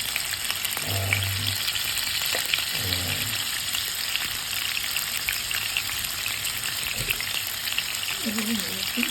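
Tofu tempering in a pan for a Sri Lankan-style tomato curry, a steady close sizzle of frying running throughout with a few brief soft knocks and stirring sounds, no talking.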